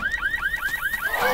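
Car alarm from Left 4 Dead 2, sounding as a fast repeating rising electronic whoop, about seven cycles in quick succession, loud and steady before dissolving into a noisy wash at the end.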